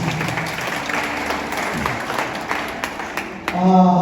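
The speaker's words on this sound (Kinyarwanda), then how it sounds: "reka tukoma amashyi menshi cyane" Congregation at a church wedding clapping hard, a busy patter of hands with crowd murmur mixed in; near the end a voice breaks in over the fading applause.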